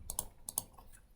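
Computer keyboard typing an answer, a few quick light key clicks in a short burst, close and quiet.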